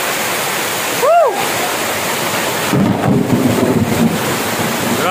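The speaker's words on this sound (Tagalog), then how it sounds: "Sobrang lakas pa naman ng ulan." Heavy rain pours down at sea during a storm with lightning, a dense roaring wash that stays loud and continuous, with a brief whooping voice over it.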